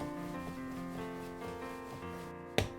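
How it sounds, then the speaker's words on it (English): Melonpan dough is kneaded by hand and pressed with body weight, giving a soft, steady rubbing and pushing sound under continuous background music, ending with a brief sharp knock. "Knead the dough with your hands using your body weight."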